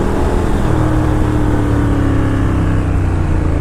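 A Ducati Diavel cruiser motorcycle engine runs loud and steady at high revs, a continuous close-up roar with strong low harmonics that holds throughout, with no talk over it.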